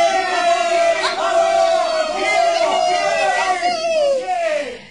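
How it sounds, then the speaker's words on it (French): Crowd shouting and cheering after firefighters put out a blaze before it reached neighbouring houses, a loud sustained mass of high excited voices with children's cries, close and continuous. "La foule crie."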